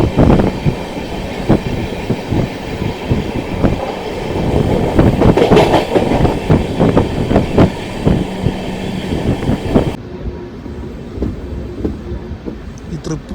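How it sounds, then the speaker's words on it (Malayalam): An Alco diesel locomotive shunts LHB passenger coaches toward a station platform, giving a steady loud rumble with repeated clanks and wheel knocks. The sound drops sharply after about ten seconds, and faint voices may be mixed in. "ആൽക്കോ നമ്മുടെ മംഗളേനെ ഷണ്ട് ചെയ്ത് സ്റ്റേഷനിലേക്ക് കൊണ്ടുപോകാട്ടോ"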